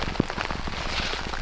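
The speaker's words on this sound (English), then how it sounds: "Got a bunch of hail." Hail falling outside, a dense steady patter of small stones striking surfaces close by, with one sharper knock near the start and no voices.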